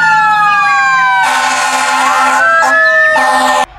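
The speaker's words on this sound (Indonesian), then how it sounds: "Wow, ada mobil pemadam kebakaran." A loud, close toy fire truck siren wails continuously, its electronic tone sweeping up and down with steady buzzy harmonics throughout.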